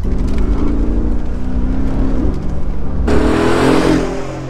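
A Mercedes G63 AMG with a 5.5-litre petrol engine roars loudly and close, a deep sustained drone that suddenly turns brighter and harsher near the end as the revs climb.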